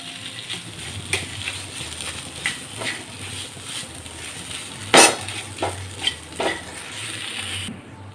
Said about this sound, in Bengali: মিশ্রণটা দিয়ে একটু নাড়াচাড়া করে নেব